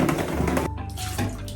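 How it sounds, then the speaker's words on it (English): Tap water runs into a sink while wild garlic (ramps) is washed, a close, steady gush that briefly dips and changes as the stream is interrupted. "Wash and dry the ramps."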